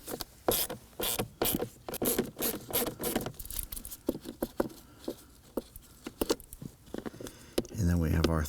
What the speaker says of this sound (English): Now I'm using a stubby 1/4 inch ratchet here